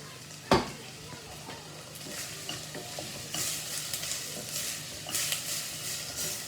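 Pea and ham soup ingredients sizzling and being stirred in a pot, a sharp metallic clank at the start followed by a steady close frying hiss with intermittent scraping stirs.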